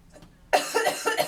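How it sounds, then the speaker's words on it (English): A few harsh coughs in quick succession after a run, close and loud, after a moment of quiet. "I'm still coughing from my run earlier"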